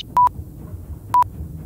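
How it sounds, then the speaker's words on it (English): Two short electronic beeps sound about a second apart, each a pair of quick tones, over a faint low background murmur. "I'm like making a beep in Morse code."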